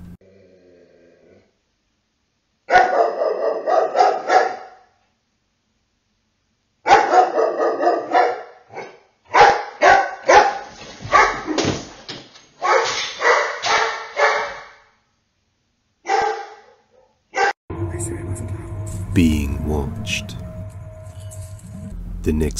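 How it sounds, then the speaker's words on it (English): A dog barks in several sharp bursts and clustered volleys, loud and close, with pauses of silence between, followed by a stretch of noisier background with a low rumble at the end. "His dog seems to be able to sense them and starts barking"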